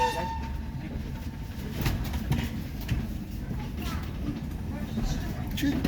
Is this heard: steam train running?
yes